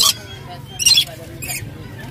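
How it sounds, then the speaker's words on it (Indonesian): A red bird calls in a park on a clear day, with a few short bright squawking bursts sounding close and moderately loud, and a voice heard faintly between them. "Ini ada burung guys."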